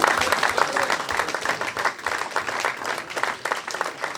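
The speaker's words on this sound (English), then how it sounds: "the whole committee deserves a round of applause from everyone" Applause from the audience at a rugby league club awards evening, for the whole committee: a dense, steady patter of many hands clapping that carries on throughout, with a few voices mixed in.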